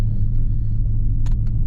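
A Dodge Challenger Scat Pack with a six-speed manual idles while warming up, a steady deep rumble close by with no talk over it.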